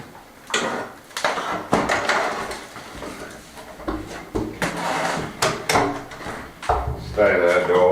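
A temporary makeshift door in a stone farmhouse under renovation is shifted and handled, giving a series of wooden knocks, scrapes and bumps, loud and close, while someone talks throughout.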